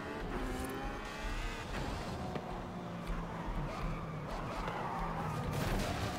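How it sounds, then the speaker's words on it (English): Ferrari California T with a 6-liter V12 in Forza Horizon 5, its engine revving and droning at low volume as the car accelerates, with tire noise and brief skids, heard without talk. "A V12. 6-liter V12 I have on this thing right now."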